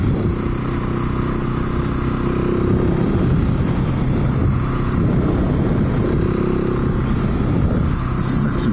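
A KTM 701 motorcycle engine drones steadily while riding, close and continuous with some rattling and scraping, under heavy wind rush, with a brief voice near the end.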